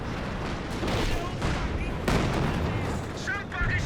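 Vickers machine gun firing in Company of Heroes 2, a dense stream of battle gunfire and bursts over a busy war soundscape, with a commentator talking throughout.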